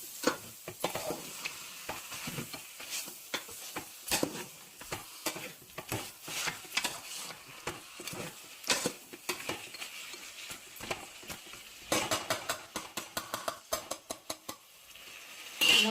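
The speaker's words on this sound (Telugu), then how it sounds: "ఇప్పుడు ఈ చికెన్ వేసి అయితే మొత్తం కలపాలి." Chicken is stirred into a curry in a pan, a Telangana-style desi chicken curry. Repeated scraping strokes of a spoon against the pan come in an uneven rhythm over a soft sizzle, with occasional metallic clinks, close and clear.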